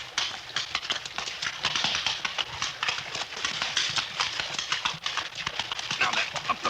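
Horse hooves clatter and splash across a rocky creek bed in a radio drama, a dense, uneven run of close clip-clop strikes over steady water noise, continuous throughout.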